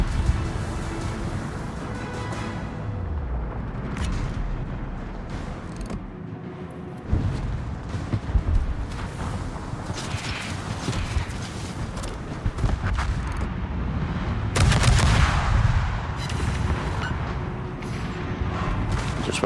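Warship guns fire in the World of Warships naval game, with heavy booming salvos that stand out near the seven and fifteen second marks over a constant rumble of engine and sea noise.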